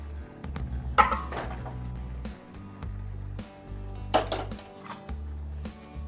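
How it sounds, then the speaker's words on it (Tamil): Dry rice poured into a pot of Dindigul chicken biryani and stirred, with two distinct bursts of scraping, clinking stirring against the metal pot at close range, separated by quieter pauses. "இப்போ அரிசி நம்ம ஊற்றலாம்"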